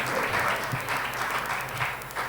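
An audience applauds a poet at a Hindi poetry reading in Gorakhpur, a steady, close wash of many hands clapping that carries on without pause.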